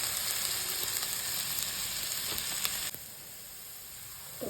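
Potatoes frying in a pan with turmeric and salt, a steady close sizzle and hiss that runs throughout, easing slightly after the midpoint, with no talking.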